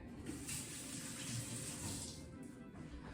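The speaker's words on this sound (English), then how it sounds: "I'll rinse my hands off" Tap water runs steadily while hands are rinsed, a continuous close hiss and splash that stays even throughout with no talking.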